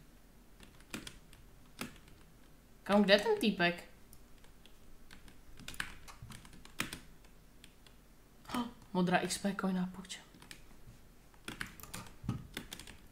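Computer keyboard typing and clicking during video game play, with scattered sharp key clicks throughout and two bursts of speech over the keystrokes.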